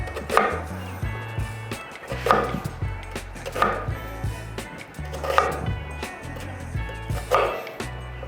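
Knife slicing an onion into long slivers for fajitas, cutting around the radius toward a point below the centre on a board; a series of evenly spaced firm chops, about one every 1.5 seconds, close and clear over steady low background music.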